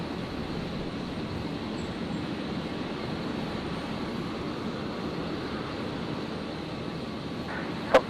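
Qantas passenger airliner in from Hobart, Tasmania, touching down on runway 01 right at Brisbane, a steady broadband roar of jet noise held at an even level throughout with a brief sharp click near the end.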